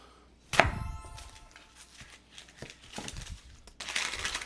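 A sharp knife chops an onion on a cutting board, with one sharp cut near the start followed by quieter crisp slicing and crinkling of peel, fairly close and with no voices.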